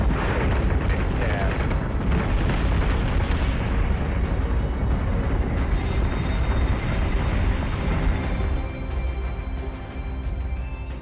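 Missile explosions in the space battle video game Battlestar Galactica Deadlock sound as a dense, continuous barrage of booms and rumbling blasts, loud and layered, easing slightly near the end.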